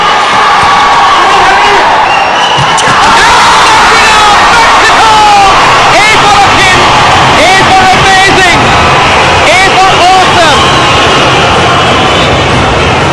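A loud volleyball crowd roars and cheers continuously after a spike, with shouts and whistles rising through the noise for the whole stretch.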